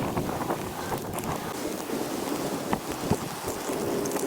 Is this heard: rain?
yes